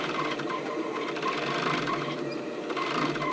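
A sewing machine stitches a sports bra strap, its rapid needle clatter running continuously and close with a steady mechanical rhythm and no voices.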